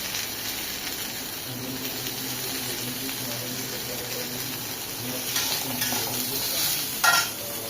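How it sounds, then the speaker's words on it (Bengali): Boiled jackfruit fries in hot oil for a Bengali kathal bhaja, a steady close sizzle with stirring clatter and a brief louder scrape near the end, no speech. "কাঁঠালটাকে সেদ্ধ কাঁঠালটাকে প্রায় 3 মিনিট মতো আমি একটু তেলে একটু ভাজা ভাজা করে নিলাম।"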